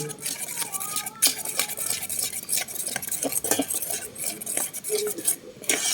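A utensil stirs Southern Thai red curry paste mixed with shrimp paste in a pot, giving repeated scraping clinks and knocks in an uneven rhythm, close and moderately loud, with no talking.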